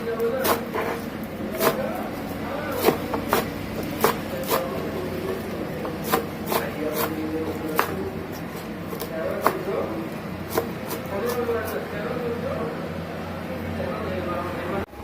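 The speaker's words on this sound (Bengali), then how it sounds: "এটাকে এখন কুচি কুচি করব।" A knife chops fresh amaranth greens (data shak) on a board in sharp, fairly regular strokes, a dozen or so crisp cuts close by, with a faint background hum and a person talking at times.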